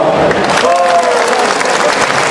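Audience applause at a talk on national unity and tolerance in Indonesia: a dense burst of clapping from a crowd, loud and close, filling the whole moment without speech.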